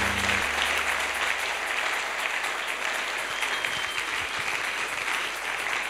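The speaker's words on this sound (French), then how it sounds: "On peut acclamer le Seigneur." A church congregation applauds the Lord, steady dense clapping filling the room without a break, loud and continuous throughout.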